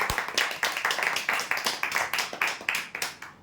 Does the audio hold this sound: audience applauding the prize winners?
yes